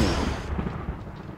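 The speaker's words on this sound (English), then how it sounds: "That exploded again." An explosion in modded Minecraft booms close and loud with a rumbling blast that fades quickly.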